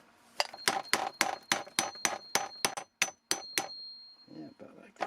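A hammer drives a single axle onto a wooden folk-art whirligig figure, a canoe paddler, in about a dozen sharp, evenly spaced taps with a faint ringing tone, then a brief pause and a softer rustle.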